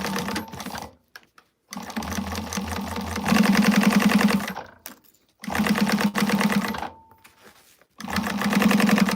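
Sewing machine basting all the way around a garment, loud rapid stitching in several bursts separated by short pauses, close up with no talking.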